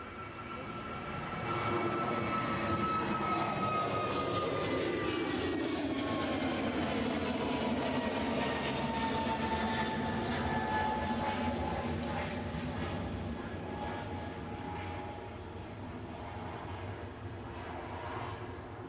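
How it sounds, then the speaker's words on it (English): A small business jet taxis at Edinburgh airport, its engine whine rising and sweeping in pitch over a low rumble at moderate distance, steady for the whole stretch and slowly fading near the end. "See a little bizjet just snicking out there"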